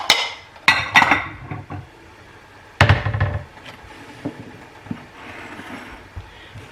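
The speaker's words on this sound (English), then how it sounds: "Let me get a bowl down." A bowl is taken down from a kitchen shelf and set on the counter: several sharp knocks and clinks of ceramic against wood, scattered among lighter rattles and handling noises at close range.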